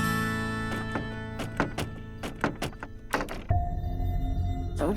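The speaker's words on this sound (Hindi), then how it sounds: "दरवाजा नहीं खुल रहा।" Someone tries to open a locked door in a house, making a rapid series of knocks, rattles and thuds against it. The noise stops and a low, sustained tone follows.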